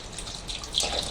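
Tap water running into a sink to soak frozen chicken necks, a short steady splashing stream with a brighter splatter near the end.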